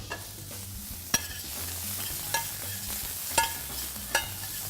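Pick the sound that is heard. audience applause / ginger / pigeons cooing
ginger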